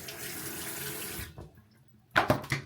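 A bathroom tap runs in a steady hiss for about a second before shutting off, followed by a few close splashes of water as a face is rinsed.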